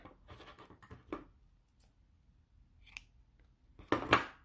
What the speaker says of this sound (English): I'm now going to slip stitch in the next here and then cut off.